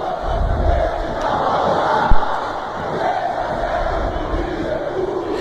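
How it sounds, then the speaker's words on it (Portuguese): Stadium crowd chant for Flamengo from Pro Evolution Soccer on PlayStation 3, a dense, steady roar of massed voices singing and shouting, with a brief sharp thump midway. "Quando o Flamengo estiver vencendo, a torcida grite essa daqui."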